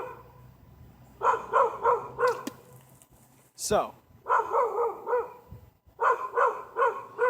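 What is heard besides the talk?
dog barking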